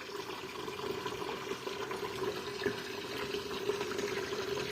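Water running steadily out of an opened radiator outlet during flushing of a home heating system, a continuous splashing, gurgling stream with no voices.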